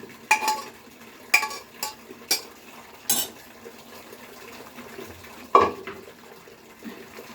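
Pressure-cooked cabbage is tipped into a pan along with its cooking water for a fish-head cabbage curry: several sharp spoon-on-pan clinks and scrapes with soft splashing between them, close by, and no talking.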